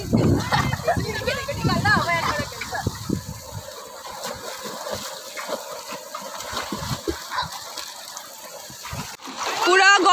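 People play and splash in water at Simrayo, with splashes and excited voices loud at the start, then sparse splashes under a background hum and talking.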